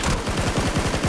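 Rapid gunfire in the video game PUBG, a steady stream of shots at a fast, regular rhythm, loud and close, with no talking over it.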